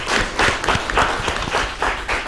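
Audience applause at the launch ceremony of the Border Breakers Innovation Festival, with dense clapping that swells in repeated waves for about two seconds and carries no speech over it.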